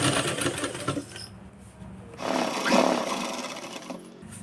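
A sewing machine runs in quick rattling bursts as it stitches cloth for a saree belt with elastic, loud and close, pausing briefly before a second longer run.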